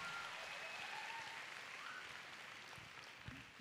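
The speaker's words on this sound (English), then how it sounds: "Can you give yourselves a round of applause for being a fabulous institution?" An institution's audience applauds a comedy act, a steady, dense wash of clapping that is quiet and distant and holds evenly for a few seconds with no speech over it.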